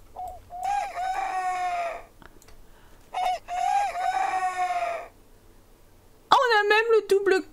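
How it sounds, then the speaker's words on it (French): Rooster crowing in The Sims 4, a loud rising-and-falling cock-a-doodle-doo heard twice, followed by a sharper, more strained second crow near the end, with no voices over it. "Même le double coq, c'est trop chaud."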